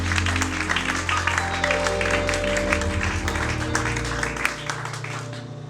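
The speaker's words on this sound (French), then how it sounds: "Acclamons pour la gloire de Jésus." A church congregation applauding for the glory of Jesus, a dense sustained wash of clapping over a low background drone, fading slightly at the end.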